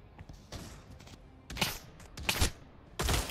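Gunfire in the VR shooter Pavlov, played with friends: several separate bursts of shots, some quick rapid volleys, close and loud over a quiet background.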